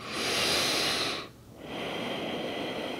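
A person in a yoga session draws a long, soft breath in through the nose, a close, airy rush that fades to a brief pause before a quieter breath continues.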